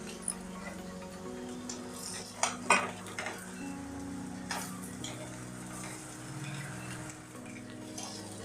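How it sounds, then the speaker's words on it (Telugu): Eggs fry in oil in a pan, a low steady sizzle joined by clinking taps and scrapes of a utensil around the middle as they are turned over, then the quiet frying continues. "ఇలా 2 నిమిషాల పాటు ఉడకనివ్వాలి ఆయిల్లో. ఇప్పుడు వీటిని ఇటువైపు తిరిగేసుకుందాము"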